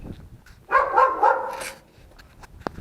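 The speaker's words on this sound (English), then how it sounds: "Beautiful dog." A dog at a castle site gives a short burst of two or three barks at close range, followed by quieter background noise and a brief sharp knock near the end.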